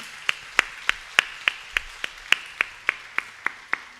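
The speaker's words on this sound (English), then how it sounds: "Next, please give a round of applause to Sri C.K. Vijayaraghavan on the violin." Audience claps for a violinist, C.K. Vijayaraghavan, at a concert, in a steady, evenly spaced series of about fifteen sharp claps, moderately close and with no talk over them.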